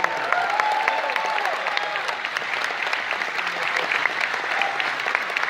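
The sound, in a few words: audience applause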